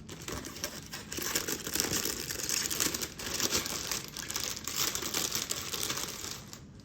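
Someone unwraps taped merchandise packaging from a pre-order unboxing, close and steady. Plastic and tape crinkle and crackle continuously for several seconds, with no talking.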